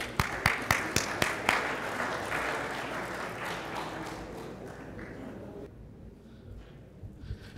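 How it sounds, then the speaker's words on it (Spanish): Conference audience applauding, opening with a few loud, distinct claps that swell into sustained clapping from a crowded hall, then thinning out as the ovation fades. "Démosle un fuerte aplauso, por favor."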